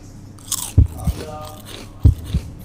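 Crispy squid salad bitten and chewed close up, a few distinct crunchy bites and chews in a short burst, loud and near with quiet pauses between.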